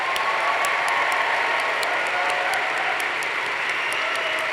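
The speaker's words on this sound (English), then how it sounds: "Please give one more round of applause to George R.R. Martin." Audience applause for author George R. R. Martin at a live evening event, a large crowd clapping loudly and steadily throughout without a break.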